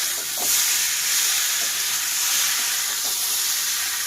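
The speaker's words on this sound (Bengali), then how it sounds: "এদিকে আমার তরকারিটা পুড়ে যাচ্ছে" Curry sizzling and starting to burn in a pan on a home stove, a steady, loud broadband hiss with faint stirring scrapes throughout, no voices.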